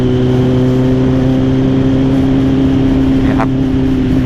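A Kawasaki Z800 motorcycle engine is heard close and loud at a steady high rev, giving a strong humming drone with clear tonal layers and no speech.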